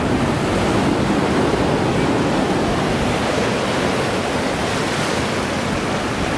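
Ocean waves crash steadily and loudly against a rocky shore in Bali, forming a dense, continuous roar of surf with no voices heard.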